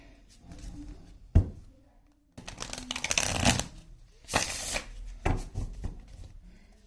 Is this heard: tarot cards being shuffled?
yes